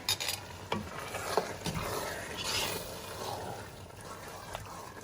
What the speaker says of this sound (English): I'm going to go ahead and stir.